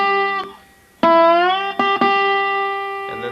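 Dobro notes picked by thumb and middle finger on the first string during a Cripple Creek lesson, bright resonant twangs with one note sliding upward, each ringing clearly and alone.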